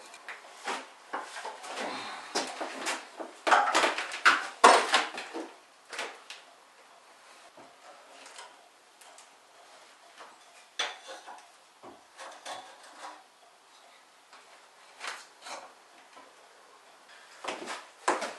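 Small wooden wedges cut from 2x1 timber are knocked and pushed in around a replacement window in an old house, giving clusters of light wooden taps, knocks and scrapes with quiet gaps between them.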